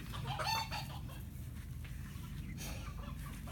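Polish chickens cluck and squawk nearby in a farmyard flock, loudest in a burst at the start and then settling into softer, scattered clucking with no talk.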